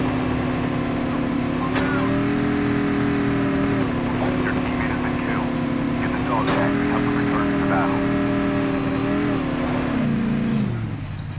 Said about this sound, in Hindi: चलो बाइक लेते हैं, निकलते हैं